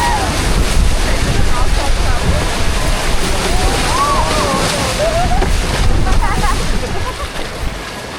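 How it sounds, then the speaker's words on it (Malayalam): Hozugawa river water rushing and splashing around a boat during a ride through Arashiyama, Kyoto, with constant wind buffeting the microphone and some brief background voices and cries. "ഈ വെള്ളമൊക്കെ ചില സമയത്ത് മേത്തേക്ക് തെറിക്കുന്നുണ്ട് കേട്ടോ."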